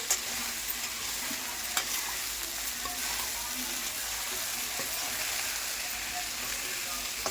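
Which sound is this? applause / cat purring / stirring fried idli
stirring fried idli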